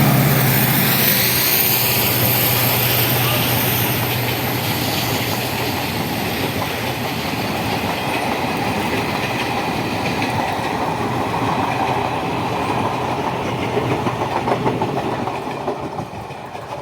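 A passenger train hauled by a diesel locomotive, an Ayodhya Cantt–Lucknow special on the Barabanki–Ayodhya line, passes close by with a loud steady rumble and rhythmic clickety-clack that fades slightly toward the end, no talking.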